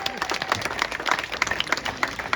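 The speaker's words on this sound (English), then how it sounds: "Give yourself a round of applause." Scattered audience clapping at an outdoor recall rally, moderately loud and somewhat uneven, with a few distinct hand claps standing out from the crowd.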